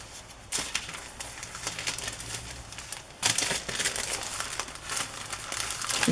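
Close crinkling and crumpling of tissue paper comes in bursts of dense crackle with short pauses between them, loud and near, and nobody speaks.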